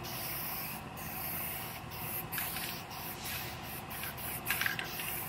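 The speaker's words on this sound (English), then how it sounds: "Now I'm gonna put one more coat of guide coat over all the primed area" Guide coat sprayed over a primed car body, a steady soft hiss of fine spray running throughout with faint rubbing texture, fairly quiet and continuous.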